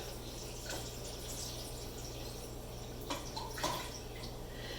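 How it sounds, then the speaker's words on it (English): Water pours and trickles steadily into an Instant Pot with a few drips and splashes, close and moderately loud, no voices. "And then you pour in your water"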